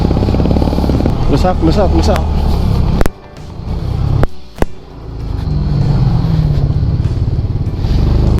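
A Yamaha PG-1 motorcycle engine drones steadily while being ridden on a muddy mountain trail, with brief dips and sharp bumps midway, and a voice talks over it close by.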